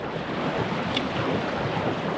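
Rushing river rapid among boulders beneath a canoe in the Arctic barren grounds, a steady, loud broadband roar of churning water mixed with wind buffeting the microphone, with no voices.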